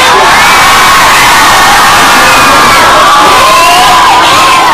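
A crowd at a Balinese temple performance at Pura Nataran Abasan cheers and shouts continuously, with children's high voices mixed into the dense, loud roar.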